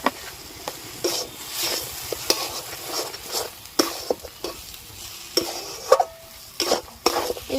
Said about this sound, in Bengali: এইভাবে আমি নাড়াচাড়া করে রসটা শুকিয়ে নেব